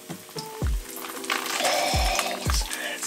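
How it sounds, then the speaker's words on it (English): Crappie fish sizzle and crackle as they fry in hot oil, with a few soft thuds and clinks of utensils near the pan. "Oh, listen to that sizzle."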